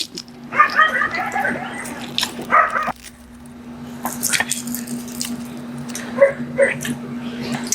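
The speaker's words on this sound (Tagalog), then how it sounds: "pasensya na sa mga aso guys na naririnig niyo yung mga asong ingay" Dogs bark in sharp, scattered bursts nearby over a steady electrical hum, with thuds and knocks in between and some distant noise.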